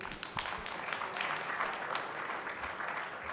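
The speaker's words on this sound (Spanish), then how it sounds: "Un aplauso, por favor." An assembly audience breaks into applause, a brief wash of many hands clapping at moderate distance, fairly soft and even for a few seconds.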